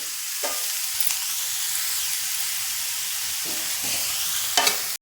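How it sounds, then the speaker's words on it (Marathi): Red onions sautéing in a pan for methi matar malai, a steady close sizzle and hiss with occasional stirring scrapes, ending in a brief clatter. "परतून घ्यायचं आहे।"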